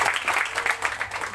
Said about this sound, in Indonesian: Beri dulu tepuk tangan yang terbaik.